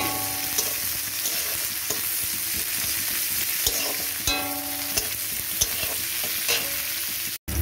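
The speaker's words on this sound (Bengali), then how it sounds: "পেঁয়াজটা একটু ভাজা ভাজা করে নেবো।" Chopped onion fries in a wok with a constant crackling sizzle, punctuated by the scrape and clack of a spatula stirring every second or so, close and clear without speech.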